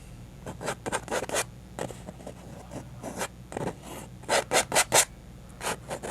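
A palette knife scrapes oil paint down bare canvas beneath a painted mountain, giving a series of short rasping strokes in uneven bursts, some quick and clustered, heard close and alone.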